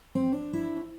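A short fingerstyle guitar phrase from measure 8 of a song, two or three plucked notes ringing out clearly and closely, played alone.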